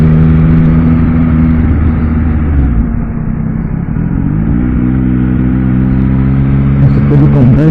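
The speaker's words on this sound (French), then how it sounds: "On va continuer la petite balade en moto tranquillement." Yamaha MT-09 motorcycle on a relaxed countryside ride, its engine droning steadily and loud throughout with shifting pitch as it eases off and picks up again, accompanied by wind rumble.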